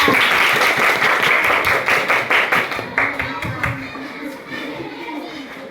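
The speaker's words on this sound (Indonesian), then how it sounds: "Tepuk tangan kepada." Elementary schoolchildren at an anti-corruption session clap their hands in a loud, rhythmic burst that gradually slows and tapers into scattered claps, with children's voices faintly underneath.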